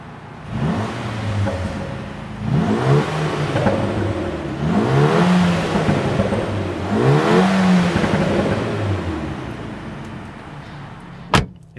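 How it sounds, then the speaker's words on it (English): A Mercedes-AMG engine is revved three times from a steady idle, each blip rising and falling with a throaty exhaust note, close by, ending with a sharp pop or click. "Let's rev it a little bit."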